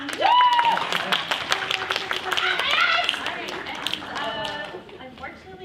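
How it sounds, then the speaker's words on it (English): Scattered clapping from a small audience at a fan convention panel for game winners, sharp individual claps mixed with voices and excited chatter of adults and children. "round of applause for everybody that won."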